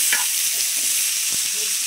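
Small cut potato pieces fry loudly in a pan, a dense steady sizzle broken by brief stirring scrapes, with no voices.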